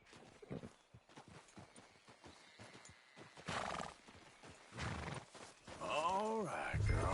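A horse in the video game Red Dead Redemption 2 whinnies loudly near the end after steady clip-clop hoofbeats, with voices talking over much of the passage.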